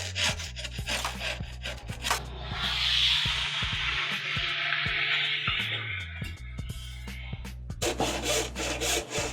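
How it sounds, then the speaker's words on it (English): A hand saw cuts an MDF board to length in a woodshop, rasping in steady back-and-forth strokes up close, with a continuous grinding stretch in the middle and no talk. "The first thing I did was take this MDF and cut it to length."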